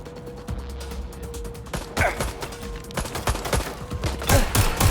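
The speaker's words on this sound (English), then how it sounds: "I'm pinned down! Shots fired! Shots fired!" Video game gunfire from Watch Dogs: Legion: rapid, irregular volleys of sharp shots crackle throughout, with a steady hum beneath and louder, denser bursts toward the end, and no voices.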